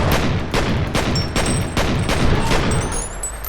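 Rapid pistol shots from the John Woo pistol in the early-2000s shooter F.E.A.R., about seven sharp cracks in a steady rhythm, loud and close over game ambience.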